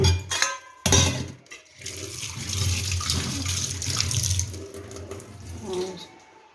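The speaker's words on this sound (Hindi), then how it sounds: "अब चलते हैं पेड़ों में पानी डाल दें" Water poured onto plants at home, splashing and gushing in uneven bursts close by, with brief pauses and clattering handling sounds between pours.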